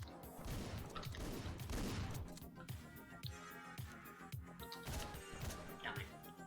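Shotgun blasts ring out in the top-down action game Hotline Miami, repeated sharp punchy shots at an uneven rhythm layered over pulsing synth music, fairly quiet overall.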